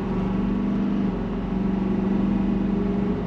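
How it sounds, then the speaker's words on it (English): A 2023 Ford F-250 Super Duty XLT pickup pulls hard under throttle, its engine droning in a steady, loud, close-up hum with a slight rising pitch and no talking over it. "And now we're gonna go on throttle."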